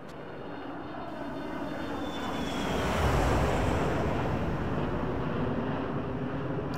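A Boeing 737 jet in the X-Plane 11 flight simulator roars past in a flyby, a broad engine rumble and whine that swells to a peak midway and then holds steady, loud and alone.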